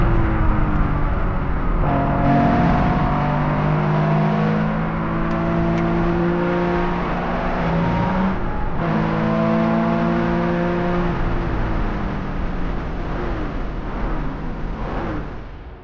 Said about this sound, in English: the view from the helmet of Maxime Guéna aboard his Porsche RSR